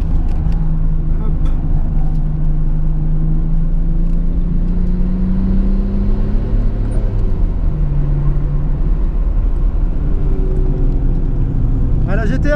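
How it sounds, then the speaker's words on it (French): A Nissan GT-R drives an easy cool-down lap, its engine holding a steady, loud, close rumble with gentle shifts in pitch and no voices. "la GTR est vraiment une voiture agréable à conduire, très facile"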